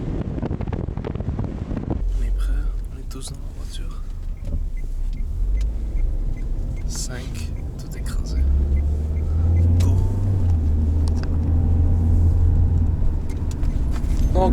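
Car driving with several people inside near the Georgia–Russia border crossing; a steady low road rumble and wind buffeting persist throughout, swelling louder in the second half, with voices talking over it.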